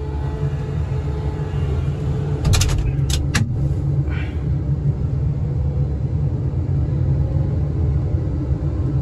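Car creeping slowly along a rough, broken road, a loud steady low rumble with brief rattling knocks from the body partway through.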